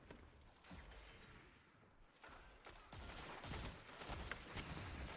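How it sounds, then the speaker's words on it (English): Dead Man's Tale scout rifle from a shooter video game firing in quick repeated shots, a dense run of sharp reports with mechanical clatter, fairly faint and busy throughout. "the peak shooting right there, really strong"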